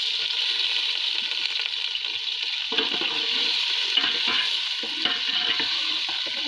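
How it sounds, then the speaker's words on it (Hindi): Two large onions frying in ghee, browning in a pan. A steady, bright sizzle holds throughout, with occasional stirring scrapes and crackles rising above it. "और प्याज को कर लेंगे ब्राउन"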